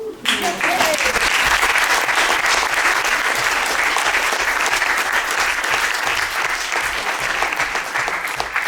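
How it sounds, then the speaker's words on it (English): Audience at a political conference panel breaks into loud, sustained applause that fills the room steadily for several seconds, dense and close with no speech over it. "Another round of applause for him"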